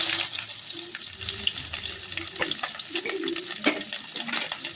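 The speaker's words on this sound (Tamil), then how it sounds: "வெங்காயம் போட்டு நல்லா வணக்கி விட்டுடலாம்" Onions fry in hot oil with mustard seeds for an egg curry, a close, steady sizzle broken by scraping stirs and sharper crackles throughout.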